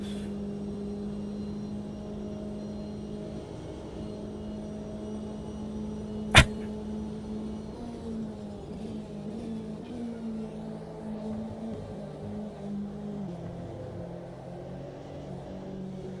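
A racing car's engine drones steadily in a multiclass racing video game, its pitch dropping and shifting as gears are changed down. A single sharp click cuts through once, and nobody speaks.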